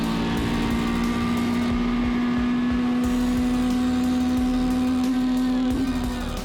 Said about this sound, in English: have a little bit of a listen to 4 litres of billet 4-cylinder down the main straight here